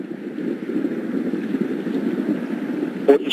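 Roaring rumble of the Orion spacecraft's rocket engines two minutes into launch, with port and starboard boosters and core stage at full power, a steady broadband roar sustained throughout, distant and continuous with a brief bump near the end.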